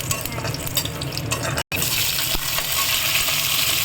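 Steady sizzling of eggplant sautéing in oil, a continuous crackling hiss with a brief cut partway through.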